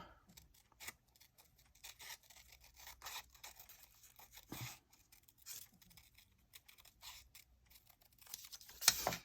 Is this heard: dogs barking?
no